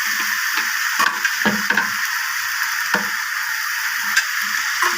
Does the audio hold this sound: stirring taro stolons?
yes